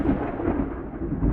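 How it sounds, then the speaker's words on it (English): Thunder sound effect from the Bismark bs-16i GarageBand app on iOS, a deep, loud rolling rumble that swells and fades continuously, with a faint wash of rain beneath it. "it wouldn't be any point of rain without thunder."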